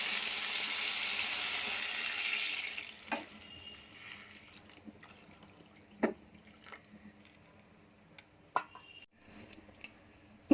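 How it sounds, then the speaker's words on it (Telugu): Chicken keema balls sizzle loudly in a pan of oil until water is poured in around them. The sizzle then dies away quickly, leaving sparse drips and light clinks in near silence. "ఈ విధంగా వేగిన తర్వాత చుట్టూరు వాటర్ పోసుకోవాలి."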